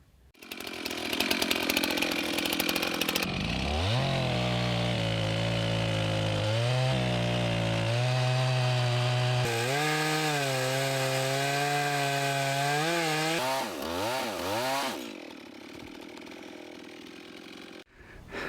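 Chainsaw cutting a limb off a huge maple tree near the trunk, the engine revving up and holding a loud steady whine as the chain bites, its pitch wavering under load before the engine drops back to idle.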